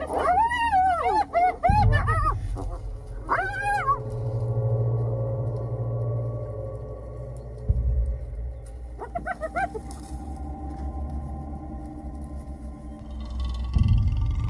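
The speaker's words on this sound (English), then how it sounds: "A pack of wild dogs has found an opportunity." A pack of African wild dogs lets out bursts of high, wavering yips and whimpers, a flurry at the start and another near the middle, over a low steady drone with no speech.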